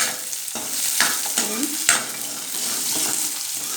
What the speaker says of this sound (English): Onion also should not become too pink, just I have to saute.